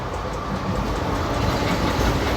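The Bathinda–Firozpur 54561 passenger train running on its rails, giving a loud, steady rumble with clattering wheels heard from aboard, cutting off abruptly at the end.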